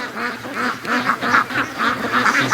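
A free-range duck with a crooked wing quacks repeatedly up close, a steady run of nasal quacks, clear and fairly loud.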